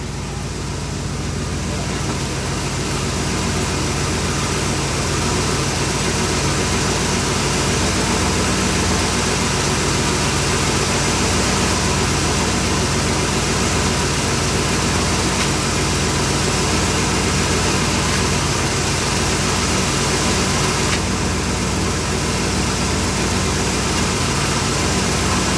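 A vehicle engine low on charge sputters and idles with a steady, rough, close rumble that holds for the whole stretch, under a dense wash of broadband noise.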